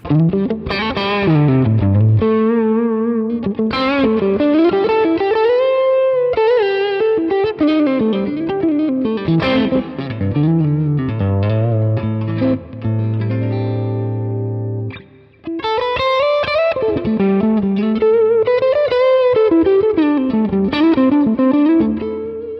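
A Super Telecaster electric guitar plays sustained, bending melodic lines through reverb, loud and continuous for most of the passage, with a brief drop before the playing resumes.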